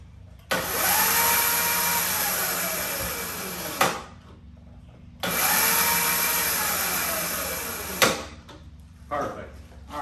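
A Razor MX350 electric dirt bike converted to run on 36-volt, 5 amp-hour drill batteries revs up on its kickstand in two loud bursts of motor whine and chain drive, each spinning up and winding down over several seconds.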